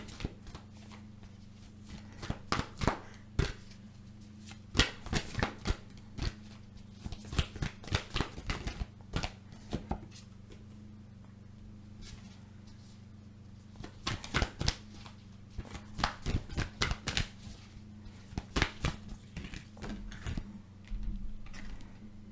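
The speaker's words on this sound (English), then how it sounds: "I have some more cards to pull for my Cancers here." Tarot cards being shuffled by hand, a steady series of crisp riffling bursts and soft slaps with brief pauses between, close and fairly quiet over a low steady hum.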